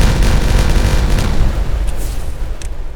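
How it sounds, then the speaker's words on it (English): Cascading explosions in the video game Timberborn roar as a dense, loud rumbling burst that fades over a few seconds, alone without talk. "let's blow up some more stuff here"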